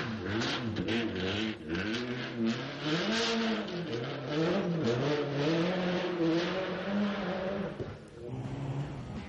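A rally car driven hard on a Barbórka Rally stage in Warsaw, its engine revving and shifting continuously at close range, with a commentator talking over it throughout.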